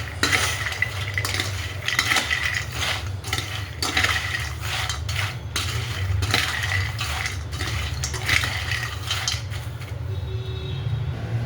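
Fasting-style nylon chivda is tossed and stirred in a pan, with continuous metallic scraping and rattling of a spoon against the pan in irregular, rapid strokes, close and fairly loud, without voices.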